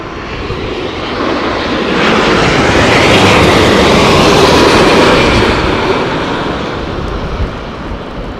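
An Air Canada airliner roars past at Heathrow Airport in stormy weather, a broad, steady jet rumble that swells to a peak mid-pass and then eases off, loud and close with no voices.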